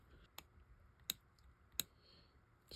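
Three sharp, small clicks a second or so apart as a part snaps into a 1990s Gruen quartz watch, close and crisp in a quiet room.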